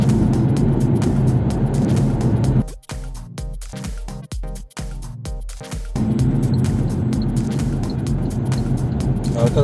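Steady road traffic rumble from driving along busy Istanbul streets toward the E5 highway, loud and continuous, with a brief choppy stretch of rapid thumps in the middle before the even drone resumes.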